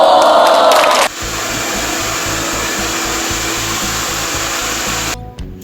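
A hair blow dryer roars loudly and steadily for about four seconds while drying a client's hair during a styling session, switching on abruptly after a brief burst of other noise and cutting off near the end.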